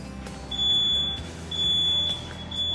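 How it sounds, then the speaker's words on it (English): A smoke alarm sounds during a test, loud, piercing high-pitched beeps, three long tones in a steady repeating pattern with short gaps between. "use it to activate the alarm and verify that it's working"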